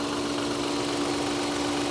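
A car engine idles with a shaky, vibrating running sound under an open hood at a salvage auction lot, a steady loud drone with a constant hum and no speech.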